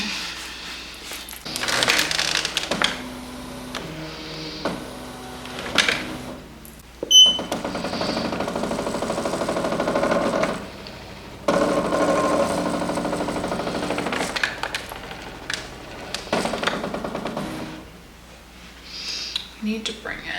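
Poolin EOX embroidery machine tracing a cap frame, its motor buzzing and whirring in stop-start bursts with knocking movements, while people talk between runs.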